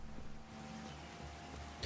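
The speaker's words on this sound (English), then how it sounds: "It's bloody raining here again." Steady soft patter of rain in the video game Fallout 4, a continuous diffuse hiss with faint low rumble, fairly quiet and unbroken throughout.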